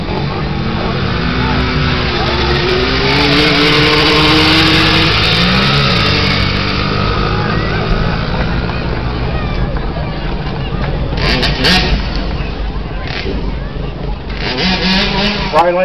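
Drag race cars run on the track with a loud, sustained engine roar, pitch sweeping as they accelerate, filling the whole span, while a voice talks over the noise at times.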